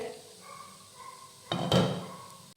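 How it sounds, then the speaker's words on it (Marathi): A metal lid is lifted off an appe pan of rice-flour appe, a sharp clank followed by a brief scraping rattle after a quiet stretch. "तर यावरचं झाकण काढूयात"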